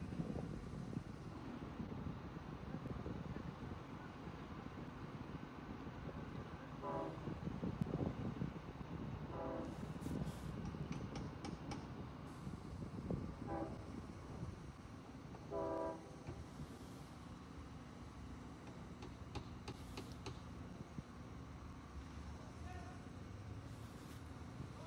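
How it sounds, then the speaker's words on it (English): A Long Island Rail Road train sounds its horn far off at a crossing in Eastport, a series of faint blasts spread out over low outdoor rumble and background noise. "I hear the horn of the next train coming in, passing through a crossing in Eastport"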